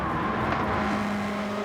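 Honda Civic race cars in a Japanese road car race at Deep Forest Raceway, engines whining loud and close in a steady, slowly rising drone, with no talk.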